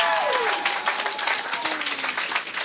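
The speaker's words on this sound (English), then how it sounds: "can I get a big round of applause for Lucy back to the stage?" Big round of audience applause at a national awards ceremony as a presenter returns to the stage, dense clapping throughout with a gliding tone or whistle sweeping downward behind it.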